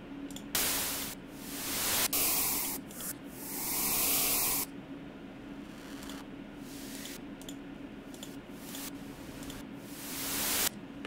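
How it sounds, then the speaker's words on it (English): Synthesized white noise risers and sweeps for a dubstep track build and cut off in bursts, hissing loudly across the full range, with swelling rushes and abrupt stops over about eleven seconds and no talking. "risers in here with just white noise"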